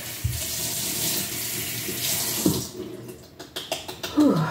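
A bathroom tap runs steadily into a sink while a face is rinsed, with water splashing and gurgling nearby, then a few sharp splashes and squeaky handling sounds toward the end.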